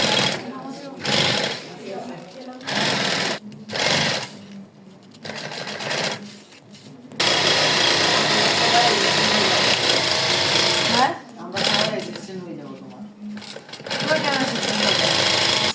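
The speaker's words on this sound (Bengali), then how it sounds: "দুই পাশ অংশটা সেলাই করে আবার দুই পাশটাকে একই সাথে মিট করে কিন্তু সমানে সেলাই করা হচ্ছে" An industrial sewing machine runs in long, steady stitching bursts, stopping and restarting several times, stitching two sides of a piece evenly, with loud continuous whirring stretches and a voice talking between runs.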